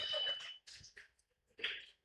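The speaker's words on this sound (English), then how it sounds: "At the buzzer." A basketball game buzzer sounds at the end of the first quarter of a boys' Jazz vs Heat quarterfinal, a loud electronic blare cutting through crowd noise and then sounding again briefly near the end.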